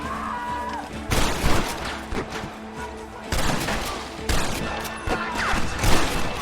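Video game gunfire from a Red Dead Redemption shootout, with repeated bursts of shots and crashes arriving in several loud clusters. Raised voices and music sit underneath the fighting.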